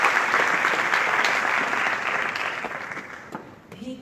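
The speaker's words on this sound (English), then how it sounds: "Give a round of applause." At a youth summit in Morocco, an audience gives a round of applause for a speaker being introduced, dense steady clapping that slowly tapers off before a voice begins near the end.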